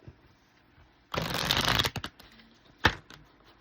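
A deck of oracle cards being shuffled by hand, a dense riffling burst of about a second followed by a few soft taps and one sharp slap as the cards settle, close and fairly quiet.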